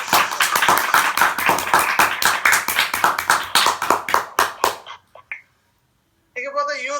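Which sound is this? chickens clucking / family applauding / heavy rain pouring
family applauding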